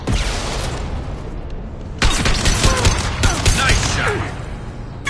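Dense rapid gunfire in the sci-fi video game Mass Effect 2 from the Legendary Edition, loud bursts crackling nearly without pause and intensifying after a brief dip, with faint voices mixed underneath.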